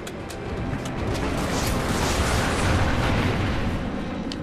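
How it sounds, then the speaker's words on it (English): Continuous, dense barrage of gunfire and explosions from an enemy strafe run in the Call of Duty: Ghosts map Collision, a loud rumbling roar with rapid shots throughout and no voices. "Enemy strafe run incoming."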